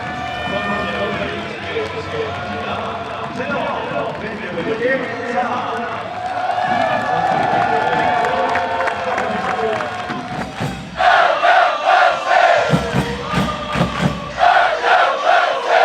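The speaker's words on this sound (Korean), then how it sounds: "우리 선수들을 큰 박수로 응원해 주십시오" Football stadium crowd for FC Anyang cheering and chanting loudly in a sustained roar, then rhythmic group clapping and shouted chant bursts near the end, with voices throughout.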